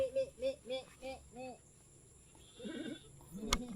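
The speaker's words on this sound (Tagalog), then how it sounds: "Tsaka mababait ang kambing mga man." Goats on a farm bleat four or five times in a quick series, close and fairly loud, followed by quieter rustling and a brief click.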